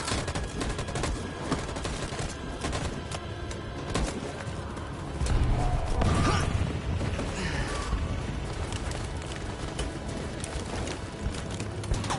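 Soldiers firing in Detroit: Become Human, a continuous loud fusillade of rapid overlapping gunshots that swells in the middle, close and dense, with faint shouting voices mixed in.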